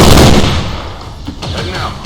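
Loud gunfire in the video game XCOM 2, a heavy burst of shots that decays over a couple of seconds, with someone talking over it.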